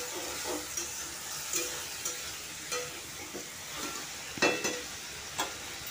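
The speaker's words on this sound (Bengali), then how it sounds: "দিয়ে সব একসাথে আমি প্রথমে তেলের মধ্যে ভেজে নেব।" Green chili and ginger sizzle and fry in hot oil, a soft continuous crackle broken by occasional stirring scrapes in the pan, quiet and close with no talking.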